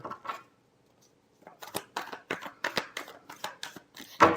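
Tarot cards being shuffled by hand in a series of quick riffling, rustling bursts, with a short pause near the start before steady rapid shuffling continues close by.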